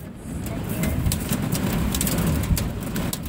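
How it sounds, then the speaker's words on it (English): Steady, dense hiss of heavy rain mixed with small hail falling close by on an upstairs patio, continuous and fairly loud with occasional sharper patters and a low rumble underneath. "It is raining hard on my broskies."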